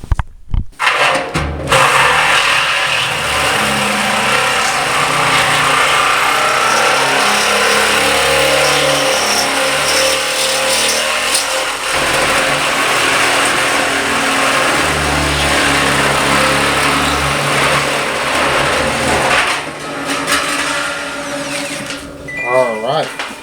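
Drill boring a hole along the edge of an oil drum, a loud, steady whining drone that holds for about twenty seconds before cutting off.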